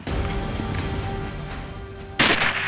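A single sharp rifle shot rings out at a buffalo on an African safari hunt, a loud, abrupt blast near the end that decays over steady outdoor background noise.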